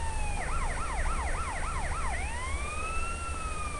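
A police car siren in a Grand Theft Auto-style video game wails in rapid, repeated up-and-down yelps, then shifts into a slower, long rising wail, loud and close with nothing else over it.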